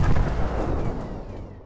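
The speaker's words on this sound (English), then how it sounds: "I added an explosion sound effect" Explosion of a spaceship breaking into jagged debris in a space trading video game, a single loud, deep boom with a rumbling body that decays over under two seconds, no speech.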